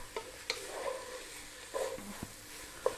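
Saffron rice stirred in a pot over low heat for a Bahraini sweet rice dish, giving a few soft scrapes and taps with a faint sizzle underneath, heard close and quiet.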